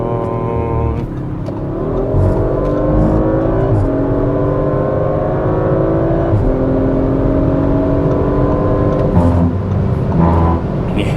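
A 2024 Audi RS5 Competition engine roars loudly and steadily, its pitch climbing as it accelerates through the gears, heard from inside at close range.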